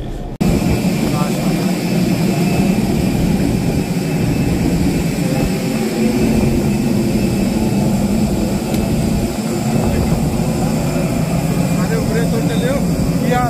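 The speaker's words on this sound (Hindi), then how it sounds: "और ये देखें हमारा जहाज़ जिस पे हमने अभी यहाँ जाना है।" Jet airliner engines roar loudly and steadily at an airport, a continuous broadband rumble and whine filling the whole stretch with people talking over it.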